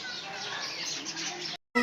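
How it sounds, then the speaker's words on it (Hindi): Mynas, crows and other birds chirp in a shrine garden at Sehwan, a busy layered chorus of tweets and calls close by, cut by a brief silence near the end. "ये चिड़ियों का आवाज़ है या ये वो मैना वगैरह हैं यहाँ पर उनका आवाज़ है।"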